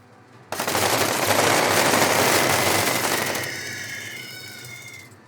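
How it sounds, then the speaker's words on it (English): Submachine gun fire from the video game Menace: about three seconds of dense, sustained automatic bursts that start abruptly, then fade into a lighter ringing tail, with no talking. "let's test these SMGs on Darby with Darby's accuracy"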